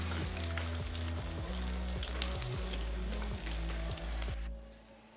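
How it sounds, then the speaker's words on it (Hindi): Potato donuts frying in hot oil over a medium flame, giving a steady, close sizzle with faint crackle that cuts off near the end. "मीडियम फ्लेम पे हमने इसको फ्राई करना है, ज़्यादा तेज़ आंच पे इसको फ्राई नहीं करना।"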